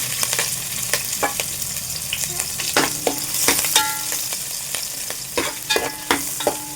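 Onion and green chilli frying in a little oil in a pan, a steady loud sizzle broken by repeated sharp clinks and scrapes of a spoon stirring, close up with no voices.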